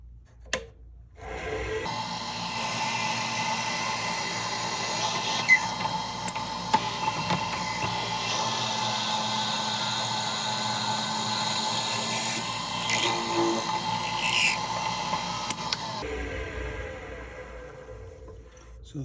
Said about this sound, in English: to drill the body out right here, we need an 11/32 to hold our 10mm section